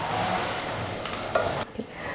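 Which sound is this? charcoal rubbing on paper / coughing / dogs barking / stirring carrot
stirring carrot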